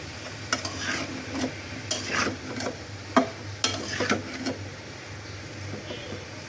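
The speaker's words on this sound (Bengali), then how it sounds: "এবার মশলার সাথে তরকারিটাকে কিছুক্ষণ কষাচ্ছি" Vegetables sautéing with spices in a pan, soft close frying hiss under repeated scraping stirs and clinks of a spatula at an irregular pace, no talk.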